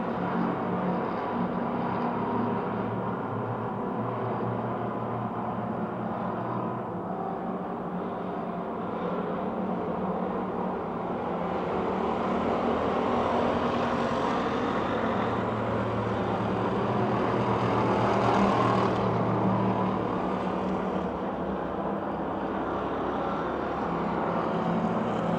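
Race cars lapping at Pennsylvania Motor Speedway, a steady distant engine drone that swells and fades as the pack passes, heard from afar without talk.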